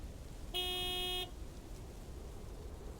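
Single sustained honk from a mail truck horn in the video game Lake, a bright steady tone lasting under a second over quiet background ambience.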